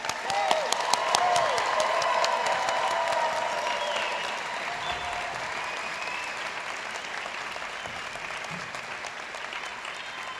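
An audience applauds at a medical school white coat ceremony for an incoming Doctor of Medicine class. The dense clapping is loudest at the start and then holds steady, gradually thinning over about ten seconds.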